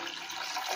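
Water poured into a gram flour (besan) mixture for kadhi in a home kitchen, a steady rushing splash of liquid that stays even and fairly loud for under a second.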